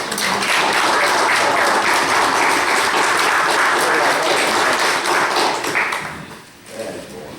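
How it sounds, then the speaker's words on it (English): A sustained round of applause from attendees at a Bullitt County Fiscal Court meeting, steady and full for about six seconds, then tapering off with a few scattered claps at the end. "So let's give Mike a big round of applause."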